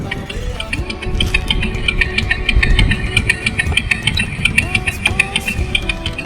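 A child's small new motorcycle runs nearby, its engine holding a steady, buzzing idle with rising and falling revs and light rattles, while people talk over it.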